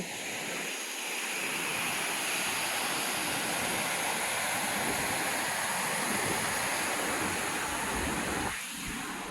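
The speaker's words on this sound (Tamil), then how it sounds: "மழை சீசன்னால இவ்வளோ ஃபோர்ஸாக தண்ணி வருது." Powerful rushing water roars steadily and loudly throughout, a dense continuous wash from a multi-step waterfall near Coimbatore pouring hard in the rainy season.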